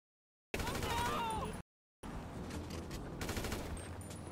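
Rapid automatic gunfire bursts in a GTA 5 online match, two loud dense fusillades separated by a brief silent gap, with a voice talking faintly over the shooting.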